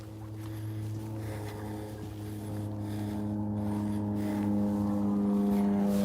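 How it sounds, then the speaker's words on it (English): A steady low engine drone hums continuously, slowly growing louder as an airplane passes overhead, heard from the wooded part of Cox Arboretum, with no talking. "There's an airplane flying over us."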